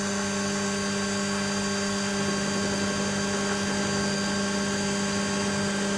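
A Warco WM180 bench lathe runs steadily while facing a workpiece, giving a constant close motor whine with a smooth, unchanging hum and no talk.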